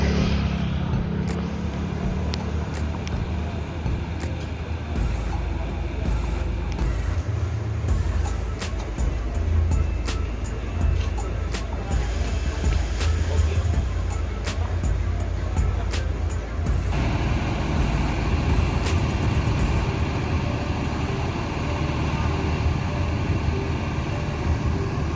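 Yuanda Prima intercity bus leaving Padang, West Sumatra, carrying a few late homecoming travellers; a steady, continuous engine and road rumble runs throughout, with a change in tone partway through and no speech.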